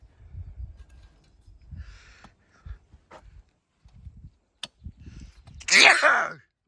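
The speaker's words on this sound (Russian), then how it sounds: "С травы летит эта пыль. Чихаю." A single sharp sneeze near the end, set off by dust flying from grass while out metal detecting in hot weather, follows quiet rustling and footstep-like shuffles.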